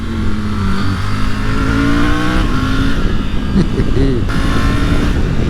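A loud Triumph Tiger 900 motorcycle engine drones steadily while riding, with rising and falling revs and heavy rushing noise.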